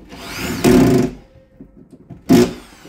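Two short bursts of a power drill driving screws through drywall into a wooden stud, each loud, whirring burst lasting about half a second, separated by quiet handling noises.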